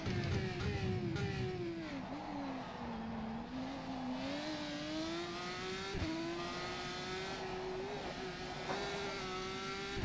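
A GP3 open-wheel race car engine in the rFactor 2 sim racing game at the Dubai circuit, a loud, sustained whine that rises and falls smoothly with throttle and gear changes for the whole stretch.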